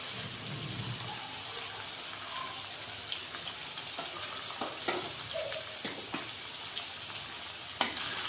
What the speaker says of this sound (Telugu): ఇవి కూడా కలిపి ఫ్రై చేద్దాము. కొంచెం సాల్ట్ వేద్దాం.